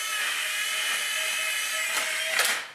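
A micro helicopter with old batteries spins up its small rotor motor, giving a thin, high, steady whine that wavers near the end, with no voices.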